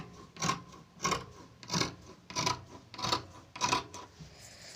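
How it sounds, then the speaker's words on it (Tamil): Scissors cut fabric for an umbrella lehenga in a tailoring class, giving six or seven regular rasping snips about every two-thirds of a second, close and moderately quiet, with no talking. "இந்த மாதிரி 2 சைடும் வந்து கட் பண்ணி எடுத்துக்கோங்க."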